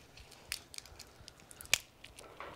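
A crunchy bite of food during an outdoor meal with chorizo and salmon with onion, heard as a few faint crisp crackles and one sharper crunch near the middle, quiet and close with no talk over it.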